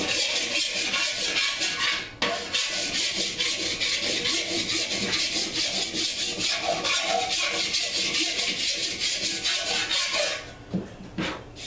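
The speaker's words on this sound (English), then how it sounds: "So basically I'm going to file along like this to find my high spot" A hand file dragged over a metal motorcycle fender to find high spots, a rapid, even rasping in steady repeated strokes, close and continuous, with a brief pause partway and scraping at the end.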